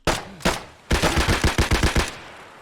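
Gunfire in the video game Escape from Tarkov: two separate shots, then a rapid burst of about ten rounds in quick succession, loud and close with no speech.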